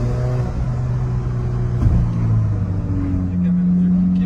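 An Alfa Romeo 4C with a carbon chassis driving in a Sunday convoy in Ajaccio, its engine a steady low drone with a brief rev midway and a rising tone near the end, with someone talking over it.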